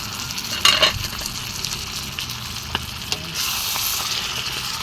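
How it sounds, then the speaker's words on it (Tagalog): Mung beans sautéing in a pan give a steady, moderately loud sizzle, with a few sharp utensil clinks near the start and a brighter surge of frying hiss in the second half. "So, yung next kong ilalagay ay yung aking munggo. Yan, gisa, ko din siya."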